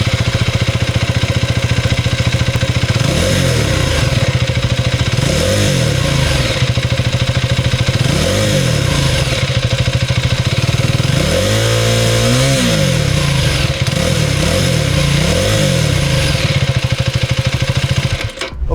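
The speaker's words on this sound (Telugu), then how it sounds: "సో ఈ బైక్లో ఎగ్జాస్ట్ నోట్ ఎలా ఉందో ఒకసారి చూద్దాం మనం" A KTM Duke 390 motorcycle from the 2025 cruise control version revs repeatedly from idle, its exhaust note rising and falling in several sharp blips with one longer pull, loud and close with no talk over it.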